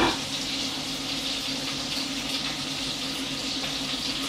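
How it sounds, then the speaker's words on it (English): Steady bubbling and churning of a pot of boiling pasta water fills the clip, a close, continuous rolling wash with no voices. "The water is boiling."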